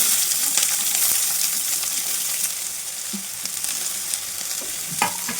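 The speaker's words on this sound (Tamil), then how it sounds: "கருவேப்பிலை, கட் பண்ணி வச்சுருக்கிற வெங்காயம் போட்டலாம்." Onions and curry leaves frying in a pan for a quick cumin curry, giving a steady close hiss of sizzling oil with faint scrapes and light clinks, alone without talk.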